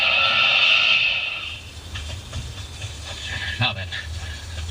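A fast train approaching a rail junction, a loud rushing hiss at first that eases into a lower rumble with scattered rhythmic clatter, heard close by.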